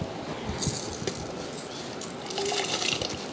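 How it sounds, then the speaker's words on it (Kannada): Washed rice is added to a pot of hot water, giving close wet splashing and rattling of grains with a few small drips over a low continuous hiss, and no talk. "ನೋಡಿ ಈಗ ನೀರೆಲ್ಲ ಒಳ್ಳೆ ಬಿಸಿಯಾಗಿದೆ ಇದಕ್ಕೆ ತೊಳೆದಂಥ ಅಕ್ಕಿಯನ್ನು ಹಾಕಿ ಬರ್ತೇನೆ"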